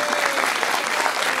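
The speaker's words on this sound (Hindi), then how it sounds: "अंकल के लिए ताली।" A studio audience on a Pakistani talk show breaks into loud, close applause, a thick continuous wash of many clapping hands with no break and no voices on top.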